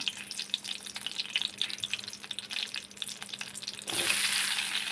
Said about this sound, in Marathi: आता तेलही गरम होई आपलं मस्त पहिले मी मिरच्या चांगल्या भुंजिलेस